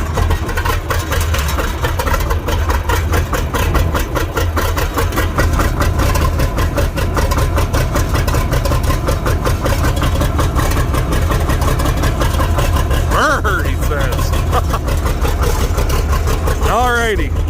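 A 50-20 engine idles steadily on a cold morning, a loud continuous low rumble throughout, with a voice speaking over it.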